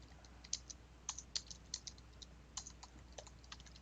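Soft, irregular clicks of typing on a computer keyboard while writing a comment, a few scattered keystrokes in short bursts, close and fairly quiet over a faint background hum.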